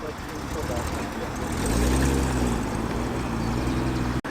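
A green Triumph 2000 classic saloon with a 2-litre engine and aftermarket Lucas spot lamps arrives at a car show road run, its low engine burble swelling as it draws near. A voice talks over it.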